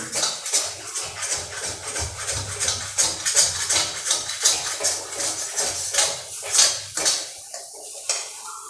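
A spoon scrapes and clanks rhythmically against a metal kadai while potato pitika-style food is stirred, a loud, close, repeated clatter with no talk.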